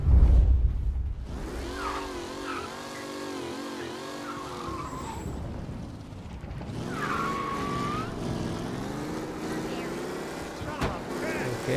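A car engine in Mafia Definitive Edition drones steadily, then revs up and falls back through shifts, loud and close, with a voice speaking over it.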